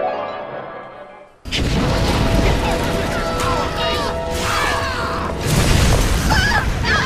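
Incinerate plasmid in BioShock igniting enemies, a sudden loud whooshing burst of flame that keeps roaring and crackling for several seconds, mixed with game noise.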